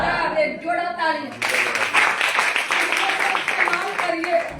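Audience clapping in unison during a health talk, a dense burst of applause starting abruptly and continuing steadily at close range.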